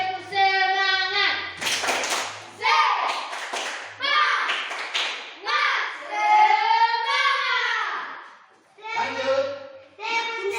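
Children in a classroom group clap along as they chant in unison, brisk hand claps mixing with their voices in bursts, with a short lull near the end before the chanting resumes.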